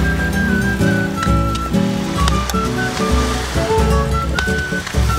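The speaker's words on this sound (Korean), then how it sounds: "파도 소리가 이제 장난 아니에요." Incoming tide brings waves washing onto an island shore at night, a loud continuous rushing surf with irregular splashes and sharp cracks, heard close and without talk.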